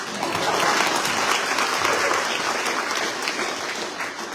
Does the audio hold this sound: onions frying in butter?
no